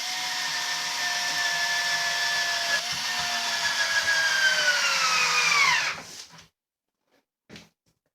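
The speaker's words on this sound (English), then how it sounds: "Just drill that home, hammer that home" A power drill whines steadily for several seconds driving a screw into a wooden chair during a cane seat repair, its pitch dipping as the screw seats, then cutting off, followed by a brief knock.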